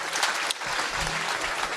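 Audience applause after a founder's startup pitch at a pitch event: steady, dense clapping from a sizable crowd, fairly close and continuous throughout.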